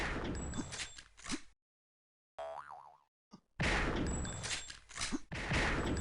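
Instagib rifle shots ring out in a Sauerbraten insta duel, sharp metallic reports in short clusters, broken by a silent gap and a brief springy tone, loud and close with no talking.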